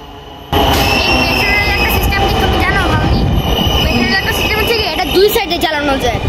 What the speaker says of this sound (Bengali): 10 মিনিট পরে আবার আরেকটি ট্রেন চলে এসেছে